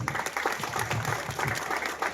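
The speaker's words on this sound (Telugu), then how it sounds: "ఒక్కసారి అందరూ ప్రభాకరన్నకు ఒక చప్పట్లు కొట్టాలని" An audience at a school health camp run by a Rotary Club claps together, a steady, dense patter of many hands that lasts the whole short stretch at moderate loudness, with faint voices mixed in.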